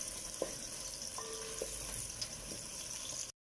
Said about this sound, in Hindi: तो आपने 1 मिनट तक ये प्याज भूनना।